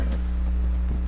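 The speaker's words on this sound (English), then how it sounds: "let's mount our new horse" Horse hooves clip-clop steadily at a walk in a video game beach setting, a soft even rhythm sitting under a constant low game hum.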